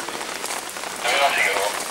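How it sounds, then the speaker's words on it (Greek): Heavy rain pours steadily during floods in Lagkada, Greece, a dense hiss of drops on surfaces that swells louder midway through, close and continuous with no talk. "Βροχή πολύ δυνατή, να κοιτάξω το δρόμο."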